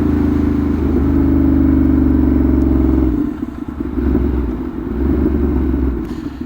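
A Ducati Monster 1200 R motorcycle engine while riding in touring mode, a loud steady drone that holds for about three seconds, then dips as the throttle eases and picks back up.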